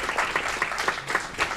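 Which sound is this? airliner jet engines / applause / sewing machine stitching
applause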